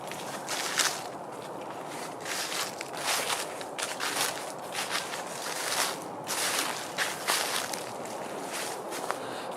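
Footsteps crunch on a short, rough trail at a campsite at night, a steady run of soft, close steps over a low background hiss, with no voices.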